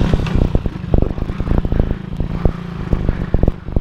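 A motorcycle fails to start with the key, giving a rough, irregular run of clattering mechanical bursts and thumps, close and fairly loud, with no clear engine catch.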